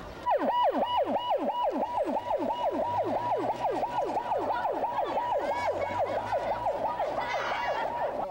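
An ambulance siren wails, cycling rapidly up and down in a steady, loud yelp, with a low engine rumble underneath throughout.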